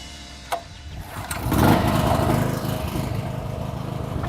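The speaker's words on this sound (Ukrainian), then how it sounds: "За допомогою ручного стартера запускаємо двигун." A sharp recoil-starter pull, then a small Vitals JBS 2.8bg petrol-gas generator engine catches and roars up to a steady loud running drone.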